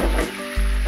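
Food frying in a pan hisses and sizzles loudly and close, a dense crackling spray that dips briefly then surges again, with no voices.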